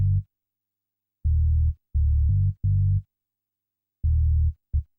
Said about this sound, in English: So it has a little high-end kind of buzz to it with the bit cooker being applied.